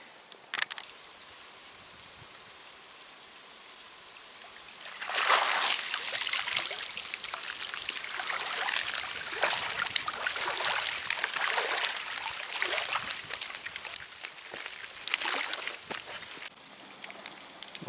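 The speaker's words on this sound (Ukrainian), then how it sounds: "Зараз витягнемо рибку з води" Water splashing and trickling as a caught roach is lifted from the water while float fishing, starting after a quiet opening and continuing as irregular splatters and drips up close.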